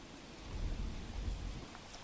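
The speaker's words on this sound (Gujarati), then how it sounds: "ભયાનક વરસાદ, પવન, વીજળીના કડાકા ભડાકા" Heavy unseasonal rain with wind and thunder in the Jasdan area of Rajkot district, Gujarat: a low, faint rumble of thunder rolls under a steady hiss of rain and wind, with no voices.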